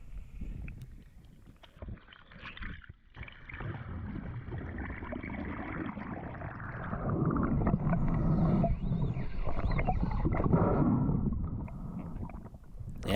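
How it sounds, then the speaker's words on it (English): Fishing line peeling fast off a reel as a hooked Spanish mackerel of about 10 kilos runs while spearfishing in Australia; a continuous rough whirring rush, fairly close, that swells in the middle and eases off toward the end. "Now you can hear him peeling line off me there."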